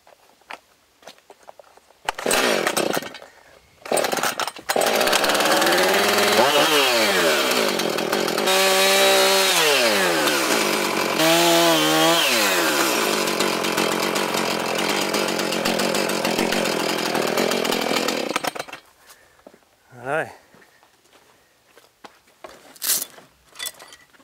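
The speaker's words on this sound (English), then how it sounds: "What I might do is just cut a bit of a slice out of this tree here." A Silky saw cuts a slice from an acacia tree outdoors, a loud continuous rasping cut that runs for about fifteen seconds, then stops and leaves quieter handling sounds.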